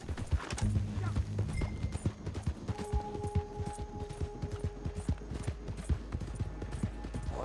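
Horse hooves clip-clop in a quick, steady rhythm in Red Dead Online, close and clear, with faint game tones and occasional distant sharp cracks in the background.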